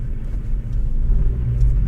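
A Honda Civic Type R FK2 held at full throttle in third gear on an icy road at minus 12 degrees, wheels spinning without moving. Its engine gives a steady, loud, low rumbling drone with no talking.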